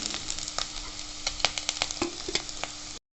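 Potato tikkis for aloo chaat sizzle and crackle in hot oil, a dense continuous frying hiss dotted with sharp pops and spatters, close and steady until it cuts off abruptly, with no talking.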